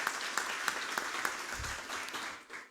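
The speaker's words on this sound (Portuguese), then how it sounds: "Uma salva de palmas, Ana," Applause for the director at a youth parliament opening session in a council chamber, a distant crowd clapping steadily, fairly faint, with a few louder individual claps and a brief low thump near the end.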